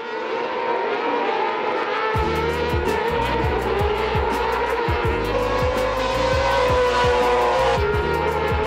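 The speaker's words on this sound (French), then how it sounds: "Les tours s'enchaînent et malgré qu'il ne soit pas au contact du trio de tête, Malone tourne dans les mêmes temps au tour" Autocross race cars lap at the FIA European Autocross Championship, heard as a loud, continuous engine roar that gets harsher and fuller after the first couple of seconds, with rapid repeated revving pulses and no talking.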